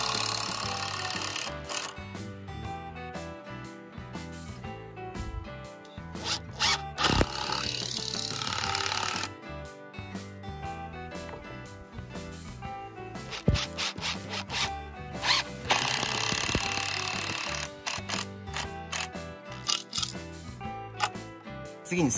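A power tool drives wood deck screws into boards for a farmhouse deck top, giving bursts of whirring and grinding with short pauses and rubbing, handling noises between them.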